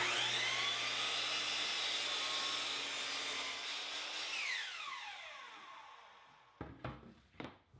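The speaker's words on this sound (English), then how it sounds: "Now I'm going to crosscut the second board to a rough length" A hand or power saw crosscuts a wooden board to rough length in a woodshop, a loud sustained rasping cut that tapers off, followed by a few brief knocks.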